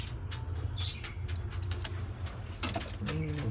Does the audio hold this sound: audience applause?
no